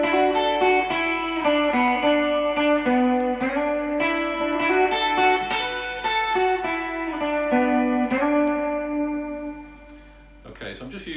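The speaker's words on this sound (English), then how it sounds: "this is probably the signature electric guitar part of the track" Electric guitar plays the signature part of a song slowly, with clean picked notes and slides ringing over a steady pulse, then a brief pause and a quick strum at the end.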